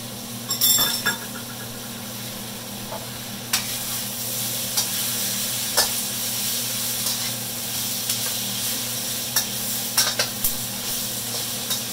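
A minced shallot, ginger and garlic mixture fries in a pan for an Asian beef pepper steak, giving a steady close sizzle broken by occasional scraping clicks of stirring, with no talking.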